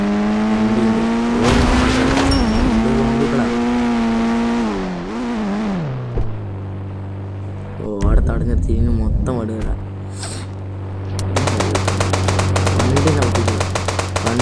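A car engine in a zombie video game hums and shifts pitch as it drives, with voices talking over it and brief bursts of other game sounds.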